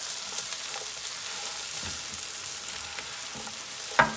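Sweet potatoes sizzle steadily in a hot pan, a continuous broadband frying hiss with soft scraping stirs throughout and a sharper clack near the end.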